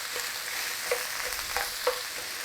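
Sausage meat sizzles steadily in a hot pan while being broken up, a continuous bright frying hiss punctuated by a few soft scraping stirs.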